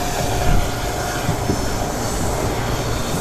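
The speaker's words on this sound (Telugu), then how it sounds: "భావనగర్ నుండి గాంధీగ్రామ్ మధ్యలో ఇంటర్సిటీ ఎక్స్ప్రెస్ అయితే మనకి ఇప్పుడు క్రాస్ ఓవర్ అవుతుంది" Intercity Express train running between Bhavnagar and Gandhigram, a loud, steady broadband rumble of wheels and engine close by, continuous for the whole stretch with no voices.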